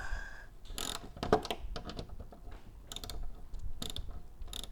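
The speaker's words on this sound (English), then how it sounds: "now I'm going to remove this bolt, which you'll need an 8mm socket" A ratchet with an 8mm socket turns a bolt on a Kawasaki Ninja 300 motorcycle fairing, giving close, crisp bursts of rapid pawl clicks separated by short pauses.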